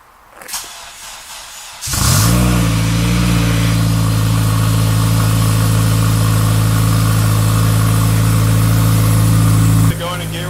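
A turbocharged Honda Civic engine cranks and catches at once, then settles into a loud, steady close-up idle with a deep rumble that holds before a brief dip near the end.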